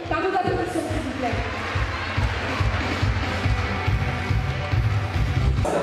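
A pageant audience at the Miss Ivoire Luxembourg & 3 Frontières event applauds the contestants with steady, dense clapping and crowd noise filling the hall, with voices mixed in.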